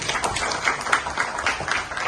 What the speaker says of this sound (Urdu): میں آپ سے گزارش کروں گا کہ شاندار اسپورٹس کے اس شاندار پروگرام کے لیے ایک بار زوردار تالیاں کریں